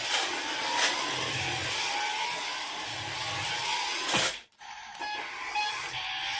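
A small toy RC car whirs steadily as it drives and turns, a continuous close motor buzz with slight surges, briefly cut out near the end before resuming.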